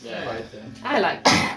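A single sharp sneeze bursts out near the end, just after someone speaks briefly, close and loud with a short breathy lead-in.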